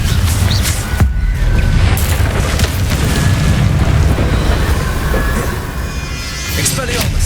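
Confringo fire-blast spell in Hogwarts Legacy gameplay on PC, loud deep booming impacts and rumble with crackling bursts, continuous under a voice shouting.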